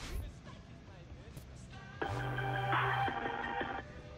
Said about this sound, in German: Oh, das Handy klingelt.